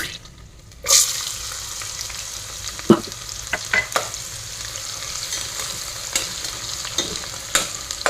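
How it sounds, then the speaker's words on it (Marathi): Chopped onion sautés in a hot pan for vegetable pulao, a constant near sizzle with a clatter as it goes in and scattered scrapes and taps of a spatula stirring through it, no talking. "कांदा छान असा परतून घ्यायचा आहे"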